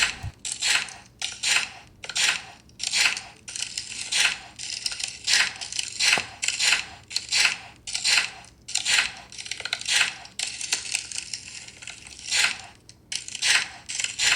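Virtual slime being squished and pressed in a phone slime app, a steady run of wet, crackly squelches repeating in quick, rhythmic bursts, close and fairly loud with no talking.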